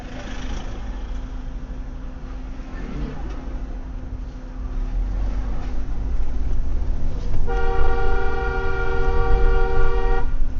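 Steady road noise and engine hum, then a long car horn blast near the end, loud and sustained for a few seconds.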